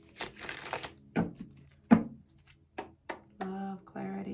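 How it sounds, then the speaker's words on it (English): A tarot card deck being shuffled by hand, with a burst of riffling card noise at the start followed by scattered taps and flicks of cards, and a voice speaking briefly near the end. "We're going to give it a shuffle for Sagittarius."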